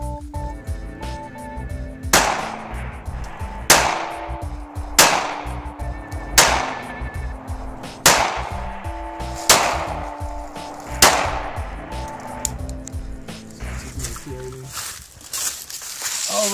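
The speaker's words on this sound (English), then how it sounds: "All right, there's 7 more rounds in the little LCP." Ruger LCP Custom pistol fired seven times in sequence, loud sharp cracks spaced roughly one to one and a half seconds apart at close range, each with a quick decaying ring, and a voice speaking between shots.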